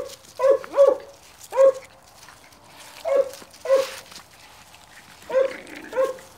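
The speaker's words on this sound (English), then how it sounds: "Staghound pit bull puppies." Staghound and pit bull cross puppies whimpering and yelping in short, separate bursts, about seven high-pitched cries spread over several seconds, close by with quiet gaps between them.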